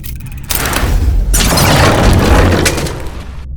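A loud, rumbling explosion in the video game Verne: The Shape of Fantasy bursts in suddenly, swells again a moment later, then roars on for a few seconds before cutting off.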